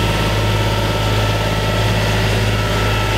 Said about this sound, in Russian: Посредине двигатель.